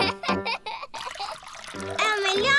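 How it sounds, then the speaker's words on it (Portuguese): Water poured into a toy dinosaur standing in as a teapot during a cartoon tea party, a brief trickle mixed in with children's voices and laughter that carry through the whole moment. "O dinossauro do George pode ser o bule de chá. Sim. Vamos enchê-lo com água."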